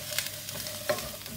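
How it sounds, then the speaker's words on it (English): Sliced courgettes and garlic fry in a pan, a soft, quiet sizzle with a couple of brief stirring scrapes, close by and alone. "what I want to do is fry the courgettes, but I don't want any of the garlic to burn"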